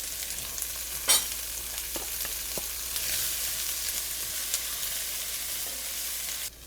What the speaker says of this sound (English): I'll go ahead and add my onions in.